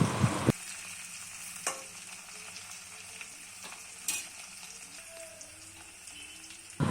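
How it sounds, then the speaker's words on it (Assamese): Onions fry in a pan with ginger, green chillies and garlic, giving a soft, steady sizzle broken by a few sharp clanks of a spoon stirring against the pan. "এতিয়া দি দিছোঁ পিঁয়াজ, অলপ দেৰি এনেকৈ ভাজি ল'ম"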